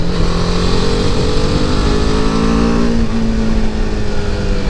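Single-cylinder BMW G310R motorcycle engine droning loudly while riding, with steady harmonic tones that drop in pitch midway as it shifts up to fifth gear, under constant wind rush.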